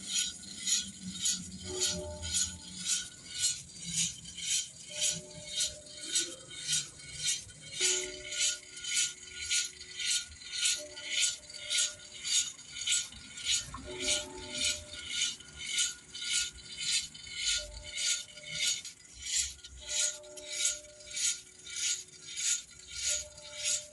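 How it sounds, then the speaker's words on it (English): A workshop air compressor runs to rebuild pressure, making a fast, even train of rhythmic mechanical pulses that continue throughout at moderate distance, fairly faint, with no talk. "So the compressor's just come on there to build back up the pressure a little bit"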